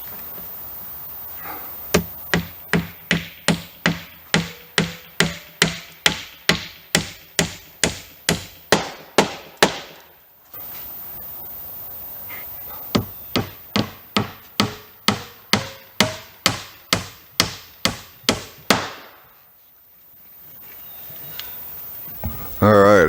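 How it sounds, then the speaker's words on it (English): Spiral nails for hardboard siding are hammered into a fascia board in two long runs of sharp, evenly spaced blows, loud and close, with a short pause between the bursts. "Let's get these nails in."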